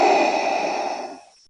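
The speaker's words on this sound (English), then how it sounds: "that's right, Darth Vader's breathing" Darth Vader's mechanical respirator breathing from Star Wars, a single loud, close hissing breath that slowly fades out, heard alone.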